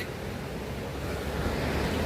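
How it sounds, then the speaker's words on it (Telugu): A river in Nepal on the rainy road from Pokhara toward Muktinath, heard as a steady, dense rushing wash of water that holds even throughout, with no talk. "చూసారా వాటర్ నది ఎలా ప్రవహిస్తుందో"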